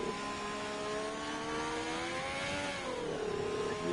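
Race car engine revving steadily at a distance, its tone sweeping upward then dropping and settling, a continuous mid-pitched drone with no talk over it.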